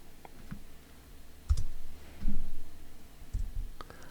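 Computer keyboard arrow keys are pressed in a few separate soft clicks and taps, close and fairly quiet, with no talking.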